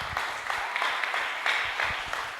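A church congregation at a Bible school class applauds with steady, rhythmic clapping that fills the room from start to finish, loud and close.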